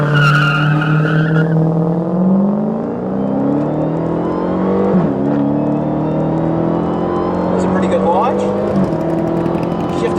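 A 700-horsepower car launches hard with screeching tire squeal, its engine rising in pitch through gear changes, loud and close, while a person talks over it.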